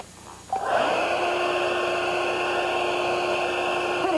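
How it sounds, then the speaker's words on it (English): A hair dryer set to cool switches on and blows steadily toward the ceiling, a loud, continuous whooshing hum with a faint whine that holds level after starting. "Just turn your hair dryer on."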